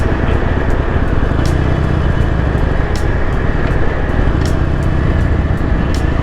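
Motorcycle riding through pure white sand at White Sands, New Mexico: a loud, constant engine drone with wind rush, steady throughout with faint periodic ticks, no talk.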